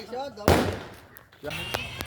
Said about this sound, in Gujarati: તો મસ્ત મજાના ફટાકિયા ફૂટી ગયા છે.